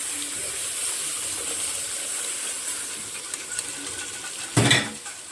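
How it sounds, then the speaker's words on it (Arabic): Milk being poured into a pan while making béchamel sauce for a zucchini dish, a steady liquid pour with a clink of a utensil or pot near the end. "هنزل بقى باللبن بسم الله"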